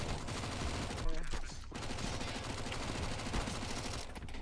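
Gunfire in the CS:GO video game, a dense spread of rapid shots and bursts running throughout, fairly loud and continuous with people talking underneath.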